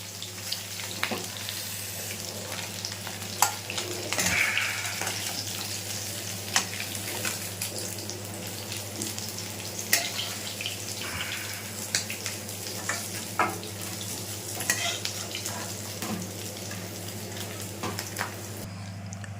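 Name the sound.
tura fish frying in oil in a pan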